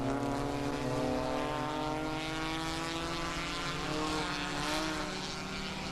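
Porsche 944 Cup race cars at the 2008 NASA National Championships drone past on the circuit, a steady, loud engine roar with layered harmonic tones that swell and fade slightly as the cars pass, no voices over it.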